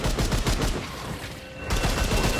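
Rapid bursts of gunfire from the co-op shooter Remnant 2, loud and dense with overlapping shots, briefly easing in the middle before resuming at full intensity.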